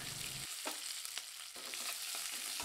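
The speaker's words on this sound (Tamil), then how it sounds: "அரை டீஸ்பூன் கடுகு, கடுகு பொரியது கூடவே அரை டீஸ்பூன் உளுந்தம்பருப்பு, அரை டீஸ்பூன் சீரகம், எல்லாம் நல்லா பொரிஞ்சு வந்துருச்சுங்க" Mustard seeds, urad dal and cumin crackle and sizzle in hot coconut oil, a dense steady frying hiss broken by sharp popping bursts, close up with no voices.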